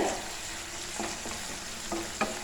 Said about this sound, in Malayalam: നമുക്ക് തുറന്നിട്ടൊന്ന് ഇളക്കി കൊടുക്കാം.